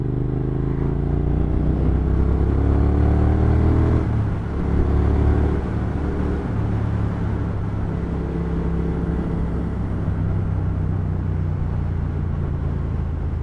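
Triumph Thruxton R motorcycle riding on an A-road, its engine a steady low rumble that eases off briefly then carries on, with wind noise over it and no voices.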